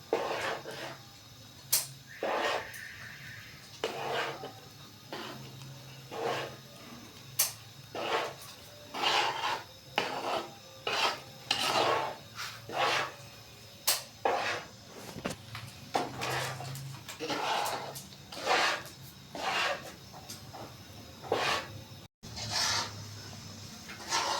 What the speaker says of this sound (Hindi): चूल्हा नीचे जलने दे हल्की आंच पे, इसको इस तरह हिलाते रहेंगे हम